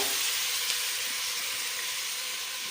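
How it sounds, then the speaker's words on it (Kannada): Pumpkin pieces frying in hot oil for a sweet pumpkin palya, a steady, close, even sizzle and hiss that holds throughout with no talking. "ಚೆನ್ನಾಗಿ ಎಣ್ಣೆನಲ್ಲೆ ಫ್ರೈ ಆಗಲಿ ಇದು ಬೇಗ ಬೆಂದೋಗುತ್ತೆ"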